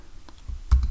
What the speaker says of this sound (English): we're going to type right in here